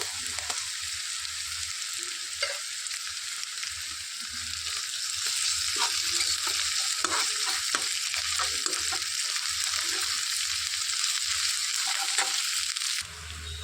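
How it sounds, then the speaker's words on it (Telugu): Ginger garlic paste with dried prawns frying in a pan for a ridge gourd curry, a steady close sizzle with light scraping stirs scattered through, no one speaking. "ఇందులోనికి 1 టేబుల్ స్పూన్ అల్లం వెల్లుల్లి పేస్ట్ వేసుకొని వేయించుకోవాలి."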